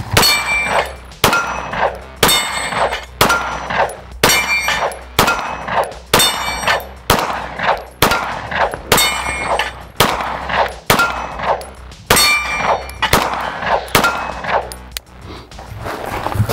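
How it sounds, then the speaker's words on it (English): Rapid pistol shots from a Springfield Prodigy 2011 ring out one after another, loud and close, each paired with a sharp metallic clang as rounds strike steel dueling tree plates and small steel targets through a full magazine. "I'm just gonna run back and forth, dueling tree plate, small target, dueling tree plate, small target, and run this whole mag through like that"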